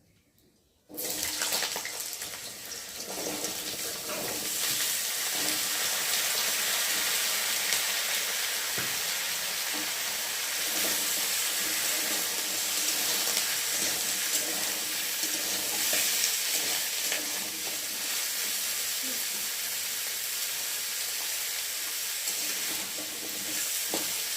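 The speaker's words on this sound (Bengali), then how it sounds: "এখন ভালো করে সবজিটা তেলের মধ্যে ভেজে নেবো" Mixed vegetables go into hot oil with black cumin and then fry with a loud sizzle that starts suddenly and stays steady and close, with faint stirring scrapes and no voices.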